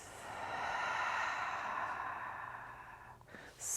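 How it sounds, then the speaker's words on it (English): A long, steady breath pushed out through the mouth during yoga breathing practice, a soft airy whoosh that swells and then fades over a few seconds, close and alone with no talk. "And exhale, side out the mouth"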